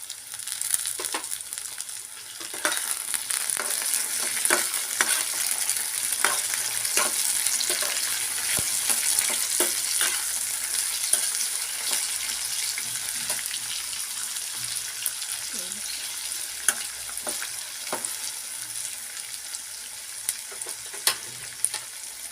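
Chopped tomatoes fry in a pan for mutton curry, giving a steady close sizzle dotted with stirring clacks and scrapes and no talking.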